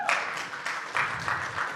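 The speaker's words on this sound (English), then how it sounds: "All right, round of applause." Crowd applause at an opening ceremony, a broad wash of clapping from many people that swells in a few bursts over a short span, moderately loud and fairly close.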